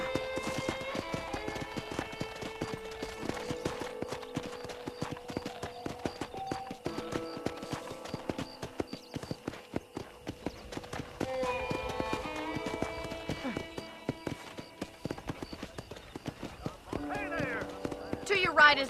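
Horse hooves clip-clopping steadily as a rider travels around a ranch in Red Dead Redemption, a continuous even rhythm with voices and game sound running over it.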